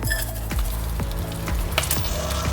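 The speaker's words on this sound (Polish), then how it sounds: "kiedy moje szparagi się smażą" Steady crackling sizzle of asparagus frying in butter in a pan, with scattered pops and spits throughout, close and continuous.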